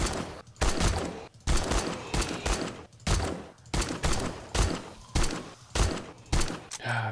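Rapid bursts of gunfire ring out in the zombie survival video game 7 Days to Die, repeated shots coming in dense clusters with brief gaps between them, loud and close throughout.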